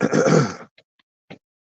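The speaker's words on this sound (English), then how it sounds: "I heard her cough" A girl swimming in an outdoor pool gives one rough, throaty cough lasting under a second, followed by a couple of faint, brief sounds in otherwise quiet surroundings.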